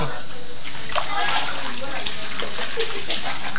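Floodwater sloshing and splashing inside a house in Manila during continuous heavy rain in 2011, a constant watery wash with scattered louder splashes close by.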